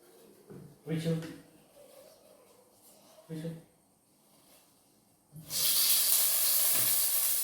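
A pan for chicken curry heats with a spice paste and water. A few spoken words and faint noises come first, then a loud, steady sizzling hiss bursts in and holds for the final two seconds.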